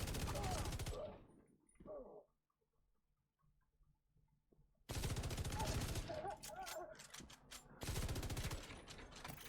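Loud bursts of automatic gunfire from The Division 2, a shooter video game, fill the opening second and return after a quiet gap, with rapid sustained volleys near the end and game sounds between.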